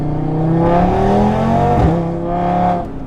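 A Stage 2 tuned Audi RS3 accelerates hard, its engine pitch climbing steadily, then dipping at a quick shift from second to third gear before rising again. Loud, close, with no talking.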